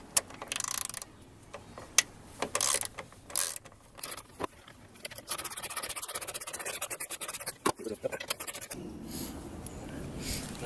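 A ratchet with a 10mm socket works a headlight bolt loose on a Buick LeSabre, giving bursts of close, fast clicking with scraping and metallic handling sounds between them, moderately loud and without talk.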